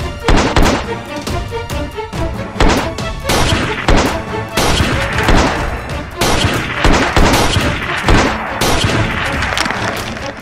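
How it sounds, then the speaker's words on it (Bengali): Gunshot effects in a short action film ring out as a dense, loud barrage of rapid sharp bangs and thuds that continues without pause. "এই নে গুলি।"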